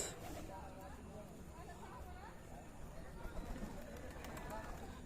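Soft pigeon coos repeat faintly amid a busy background of murmuring voices and noise at a pigeon farm, the birds low and somewhat distant.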